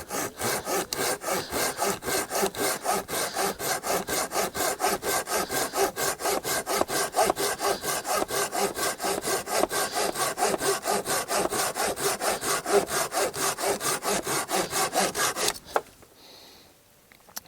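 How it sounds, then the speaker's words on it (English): A folding saw cutting through wood, with fast, even back-and-forth strokes rasping loudly and continuously for about fifteen seconds before stopping abruptly. "It actually felt like I was sawing rather than just dragging the teeth through the wood."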